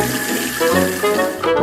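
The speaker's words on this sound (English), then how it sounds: "First, we need to fill the bath tube with water." Water runs steadily from a tap into a toy bathtub during a doll play session, a close, continuous splashing hiss with no talking.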